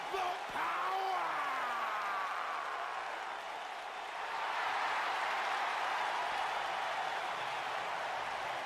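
Video game arena crowd in WWE 2K19 clapping and cheering, a broad steady wash of applause that swells slightly toward the end. A voice briefly rises over it near the start.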